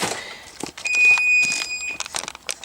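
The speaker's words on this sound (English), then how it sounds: "there is my timer for my oven. 20 minutes is up" A kitchen oven timer beeps as its twenty minutes run out, a steady electronic tone sounding loud and close for just under a second, surrounded by scattered clatter and shuffling of home cooking activity.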